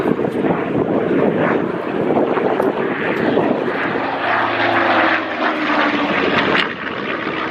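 A propeller aircraft powered by a Rolls-Royce Griffon piston engine flies past at an air show, its loud droning roar rising and shifting in pitch with wind buffeting the microphone.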